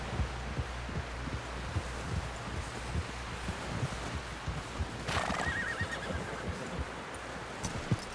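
A horse neighs in Red Dead Redemption 2 over a dense bed of hoof thuds and rustling, with one prominent whinny about halfway through, near and moderately loud.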